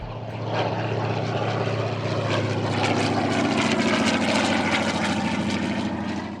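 A forest patrol propeller airplane drones steadily overhead, its engine loud and continuous throughout with no voices.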